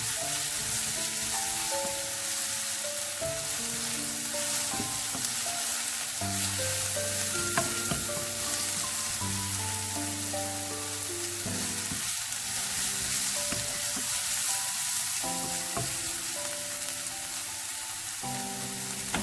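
Onions for tomato chutney sauté in a pan with a steady, dense sizzle and frying crackle throughout, close and continuous, with faint background music and no talk.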